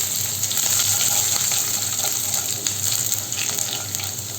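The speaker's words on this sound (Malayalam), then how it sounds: "നമുക്കിതിലേക്ക് അരിഞ്ഞു വെച്ചിരിക്കുന്ന അഞ്ചല്ലി വെളുത്തുള്ളിയാണ് ചെറുതായി അരിഞ്ഞത് ചേർത്ത് കൊടുക്കാം" Five cloves of finely chopped garlic frying in hot oil in a pan for tomato rice, a loud, steady, hissing sizzle close up that eases slightly toward the end, with no talking.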